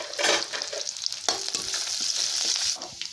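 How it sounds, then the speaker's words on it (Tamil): Mustard seeds, curry leaves and a single dried red chili splutter and crackle in hot oil, a dense, steady sizzle with sharp pops and stirring scrapes close by, alone. "பாருங்கள் கடுகு பிடிச்சிச்சு"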